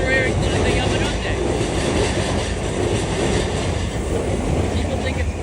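Trains, including the Yamanote Line, pass through Uguisudani Station in Tokyo with a loud, continuous rumble and rattle that fills the whole stretch.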